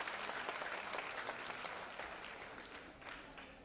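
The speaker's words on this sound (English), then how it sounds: "A huge round of applause for this talented musician." Audience applause for a musician at a Bharatanatyam arangetram, a dense, steady clapping from a seated crowd that gradually fades toward the end.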